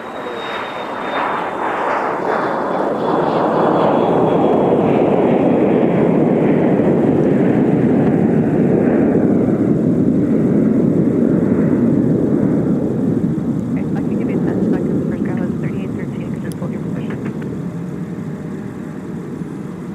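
A passenger jet takes off from runway 17 at snowy Minneapolis–Saint Paul airport in winter. A loud, sustained engine roar swells and then slowly recedes into the distance, with a high whine that falls in pitch.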